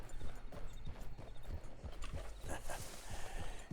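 Rhythmic clip-clop of horse hooves trotting close by in a video game, a steady stream of hollow knocks with a faint background hum.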